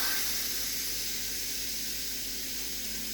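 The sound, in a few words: steam hissing out of pressure cooker release valve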